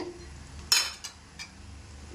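Egg gravy being stirred in a pan over low heat: a few faint clinks and scrapes of a spoon against metal, quiet and brief.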